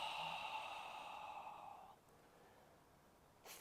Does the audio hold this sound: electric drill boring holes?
no